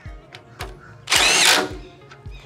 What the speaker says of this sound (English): We take our drill and our socket and we tighten down the clamps.